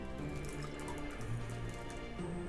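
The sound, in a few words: cocktail poured through a double strainer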